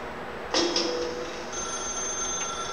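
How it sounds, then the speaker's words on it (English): A telephone rings in The Stanley Parable video game as a bright electronic tone that starts about half a second in and repeats once, then fades into a faint high hum. The ring is moderately loud, with no voices. "Now pick up the phone."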